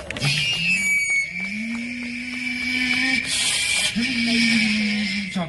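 During a busking impression act, a performer's voice mimics a vacuum cleaner sucking up a mosquito: a steady, airy roar with a droning hum underneath, sustained loudly for several seconds with slight swells.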